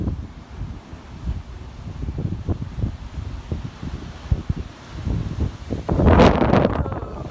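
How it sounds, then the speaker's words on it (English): Strong gusty wind at a lakeside holiday park in Chichester buffets the microphone in a continuous low rumble with irregular thumps, swelling into a louder rushing blast near the end. "It is very, very windy."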